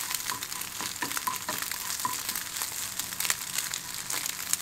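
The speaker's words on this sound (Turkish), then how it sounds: "Tereyağım eridikten sonra bir tane yumurta kırıyorum. Bu şekilde karıştırarak pişirelim." An egg fries in melted butter while being stirred in a pan: a continuous bright sizzle with repeated scraping and stirring strokes, close and steady, no talking.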